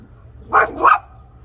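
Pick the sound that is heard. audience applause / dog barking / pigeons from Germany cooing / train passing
dog barking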